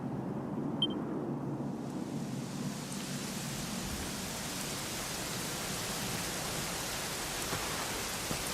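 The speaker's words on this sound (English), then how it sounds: "it was raining like this the last time I ever saw her." Steady rain falling in the Dragon Quest XI video game, a dense, even hiss with a soft low rumble underneath, continuous throughout with no voices.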